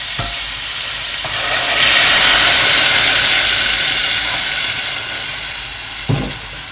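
A hot pot of frying carrots sizzles, swelling into a loud, rushing hiss of steam as stock is poured in, then gradually settles, with a clunk near the end.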